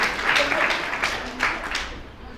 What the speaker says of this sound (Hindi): जोरदार ताली बजाइए पहले तो इस समाज में।